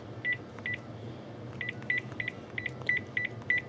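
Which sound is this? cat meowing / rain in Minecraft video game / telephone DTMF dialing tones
telephone DTMF dialing tones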